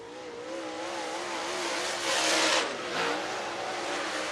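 Race cars lapping Lake Cumberland Speedway in Burnside, Kentucky, engines whining and revving as they sweep past, swelling louder twice as cars pass nearer, with no talk over them.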